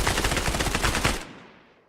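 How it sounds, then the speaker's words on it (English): Automatic gunfire in the military shooter game Arma rattles in a rapid, dense burst for just over a second, then cuts off and trails into a fading echo. "Massive gunfire"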